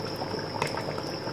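Mutton paya, goat trotters, bubbles at a steady simmer in a cooking pot, a close, continuous gurgling boil with a faint high tone running through it.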